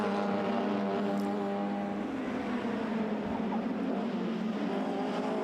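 Race cars, including an Alfa Romeo 1600 GTA, a Mini and a Cortina, compete in the Whitmore Trophy race at Goodwood, heard as a steady distant engine drone with a faint harmonic whine that holds throughout, with no voices.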